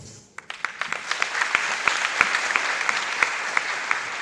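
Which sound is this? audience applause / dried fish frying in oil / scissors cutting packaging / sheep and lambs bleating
audience applause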